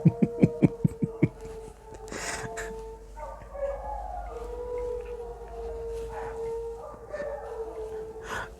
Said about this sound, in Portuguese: O cachorro tá uivando agora